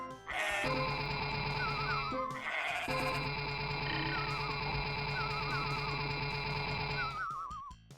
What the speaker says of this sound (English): A variety of goat sounds, I guess.